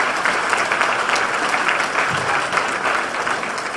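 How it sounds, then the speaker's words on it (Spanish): An audience at a business funding handout event in Morelia gives a dense round of clapping that holds steady and fairly loud throughout. "Un aplauso para Carmelo."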